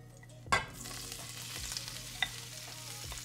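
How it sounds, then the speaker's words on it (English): Steady frying sizzle in a pan as butternut squash is added to sizzling garlic, opening with a sharp clatter as the food drops in, then a continuous crackle with small pops throughout. "the garlic is nice and fragrant. It's just starting to sizzle a little bit"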